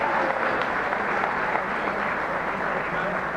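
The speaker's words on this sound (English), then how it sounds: "let's give our 4 recipients and Mr. Stein a big round of applause" Dense applause from a banquet audience at a Nebraska coaches awards event for four recipients and Mr. Stein, a steady wash of clapping without pause for a few seconds.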